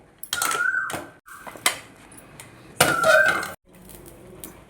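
Roasted split moong dal poured from a pan onto a dry plate, a few sharp metallic clinks and rattling pours in short bursts, close and loud with quiet gaps between.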